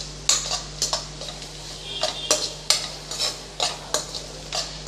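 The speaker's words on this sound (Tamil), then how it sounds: "இப்போ இந்த எண்ணெயிலே நம்ம நல்லா இதை வறுத்து எடுத்துக்கலாம்." Vada pieces for vada curry frying in hot oil, with a steady sizzle under repeated clinks and scrapes of a metal spoon stirring in the pan at a regular, close-up rhythm.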